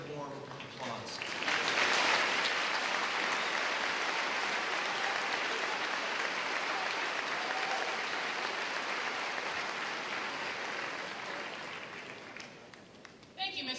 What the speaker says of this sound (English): Please give Dr. Fleming a very warm applause.